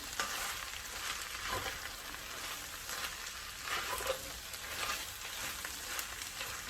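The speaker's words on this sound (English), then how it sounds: "And just stir this around a little bit more." Veggie egg fried rice crackles in a hot pan as it is stirred, a continuous close sizzle with recurring scraping pushes every second or so, moderately quiet and without talk.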